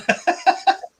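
Four sharp sneezes in quick succession, close and loud, each a forceful burst with a brief pause between, and no talking.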